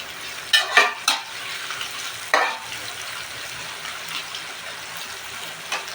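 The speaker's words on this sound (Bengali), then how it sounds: "পেঁয়াজটা একটু ভাজা ভাজা করবো" Onion and garlic frying in a pan for a raw banana and rohu fish curry, a steady sizzle with a few sharp stirring scrapes near the start and middle, close and moderately loud with no talking.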